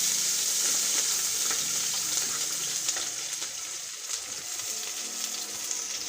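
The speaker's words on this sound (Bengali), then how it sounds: "ঘিটা গলে গেলে দিয়ে দেবো পেঁয়াজ" Onions fry in melted ghee for a beef kacchi, giving a steady, close crackling sizzle with faint stirring that continues unbroken.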